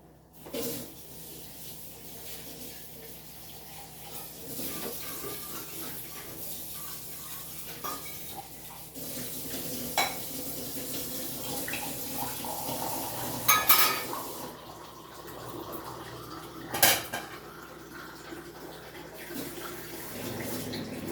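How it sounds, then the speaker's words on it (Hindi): A glassful of water poured into a kitchen pot, heard as a steady running splash with light metallic clinks of cookware, fairly close and moderately loud, with no talking. "तो जी, ये डाल दिया इसमें गिलास भर के पानी।"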